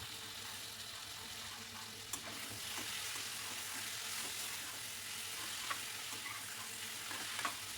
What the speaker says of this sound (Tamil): முருங்கைக்காய், உருளைக்கிழங்கு சேர்த்து அதையுமே நல்லா வதக்கி விட்டுருங்க. கூடவே சிக்கன் சேர்த்து அதையுமே நல்லா வதக்கி விட்டுருங்க